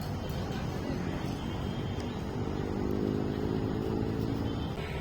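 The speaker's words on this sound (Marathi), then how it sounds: "ही बघा बोट आता जवळ येते." Motorboat on a park lake in Nerul–Seawoods, Navi Mumbai, a steady low engine drone that swells slightly as the boat approaches, heard with outdoor ambience and no talking.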